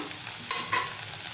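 Malvani masala and ground paste being stirred in hot oil in a pan, with a steady soft sizzle and two brief louder scraping strokes of the spoon close by, no voices.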